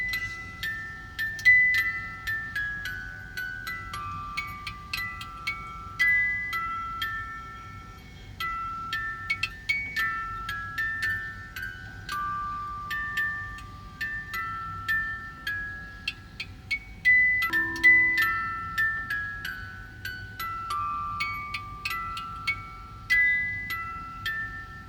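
A wind-up music box, previously overwound and repaired, plays a tinkling metallic melody of plucked comb notes in a steady rhythm, close and clear with faint mechanical ticking, alone without voices.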